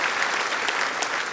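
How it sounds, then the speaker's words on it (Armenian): Dense, steady applause from a studio audience on an Armenian television talk show, filling the whole moment at an even level with no voices on top. "Ալիք Հակոբյանին էլ բարձր ծափարենք"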